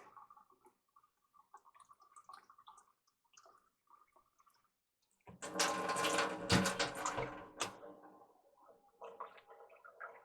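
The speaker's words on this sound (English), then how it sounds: "I filled up with 2 cups of water" Water is poured into the inner pot of an Aroma rice cooker, a gurgling splash of a few seconds that starts abruptly midway and stands out against quiet room sounds and small clinks.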